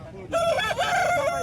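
A rooster crows once nearby at a poultry market in Kothagudem, a loud, wavering call held for over a second.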